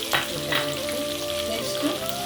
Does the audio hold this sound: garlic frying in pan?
yes